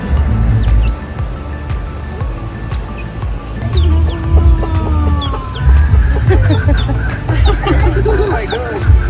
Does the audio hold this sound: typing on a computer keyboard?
no